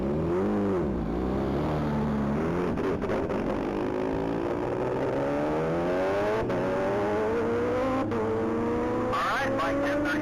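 A 2020 Kawasaki H2 motorcycle runs at the Texas Mile top-speed event, its engine note climbing steadily in pitch through the gears as it accelerates, loud and continuous, with a commentator talking over it.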